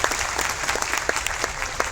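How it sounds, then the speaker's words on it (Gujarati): A folk dayro gathering in Krishnagadh bursts into applause, many hands clapping in a dense, lively patter with a few sharper claps standing out, fairly close. "તાળીઓથી આપણે એને વધાવીએ"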